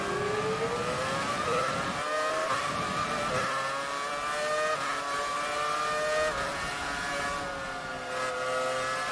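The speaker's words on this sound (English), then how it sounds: "that sounds almost exactly like a 2013 car. But it's all V8, so the noise is also," A V8 Formula 1 car engine in the F1 2019 game screams at high revs, pitch climbing through gears with brief dips at upshifts, loud and continuous with no talking.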